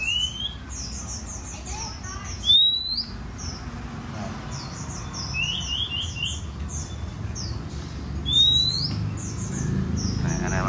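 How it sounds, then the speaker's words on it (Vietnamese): Caged songbirds, a Vietnamese white-eye (tiểu mi) type from Đà Lạt, sing repeated bright chirps and warbled phrases close by, with someone talking over steady background noise. "em quay kế bên luôn mà đứng nó hót à"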